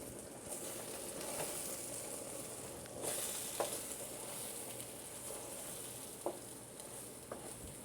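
Marshmallows melting in a pot for Rice Krispies squares give a soft, steady sizzle, with occasional faint scrapes and taps of a stirring spoon, quiet and close.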